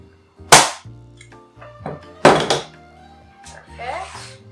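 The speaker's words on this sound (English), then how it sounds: "be careful when you make this staple, since it's a little bit more fabric" Staple gun firing into canvas fabric stretched over a wooden frame: two loud, sharp snapping thunks with handling noise and fabric rustle between them, plus a fainter third hit near the end.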